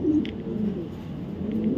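Racer pigeon, a grizzle youngster, cooing softly in a loft, a few low warbling coos spread across a short stretch with quiet background.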